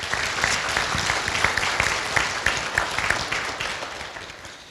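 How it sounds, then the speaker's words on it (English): A breakfast crowd at an elected officials forum claps together in a sustained, dense round of applause, loud and near, with individual claps blurring into a steady wash that eases slightly toward the end. "I think we should recognize with a round of applause"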